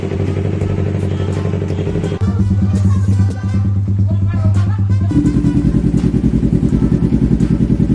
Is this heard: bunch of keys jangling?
no